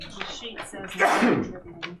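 A person sneezes once in a meeting room during a historic district commission session, a short loud burst amid people talking.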